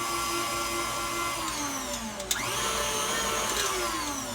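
An electric mixer whirs steadily through sweet potato pie filling, its motor pitch dipping and rising with a brief knock of the beaters against the bowl partway through.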